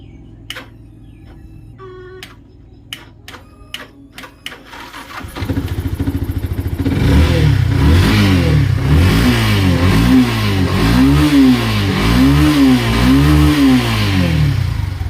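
Several sharp clicks and a brief whirring crank, then a car engine catches and idles before revving up and down in repeated loud, rising and falling surges.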